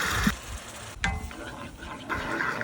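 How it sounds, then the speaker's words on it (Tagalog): Coconut cream poured into a pan of sautéed garlic and ginger, giving a soft liquid splash and gentle bubbling sizzle that comes in short bursts over a low background. "At ngayon naman ay ilalagay ko na itong natirang coconut cream o yung kakang gata."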